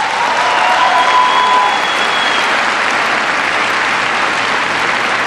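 Sustained applause from an audience during a political speech, a dense even wash of clapping that holds steady and loud for the whole stretch without letting up.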